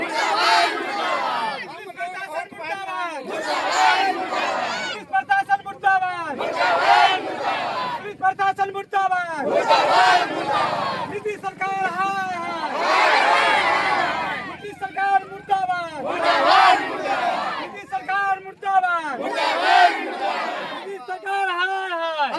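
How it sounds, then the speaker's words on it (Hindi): A crowd of landless villagers protesting against the government, chanting slogans together in loud, rhythmic repeated bursts, one voice leading and the group answering, close and steady throughout. "हम लोग नारा लगा रहे हैं सर"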